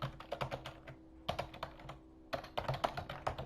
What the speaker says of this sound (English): Let's see if I can type it in here.